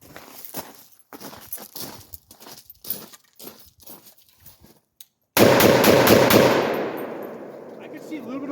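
A 16-inch Palmetto PA-10 Gen 3 rifle fires outdoors: after several seconds of scattered small handling clicks, one loud, close blast rings out and trails off in a long, rolling echo.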